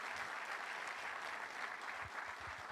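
Steady applause from a large church congregation, continuous and fairly even throughout, with a few scattered louder claps standing out near the end.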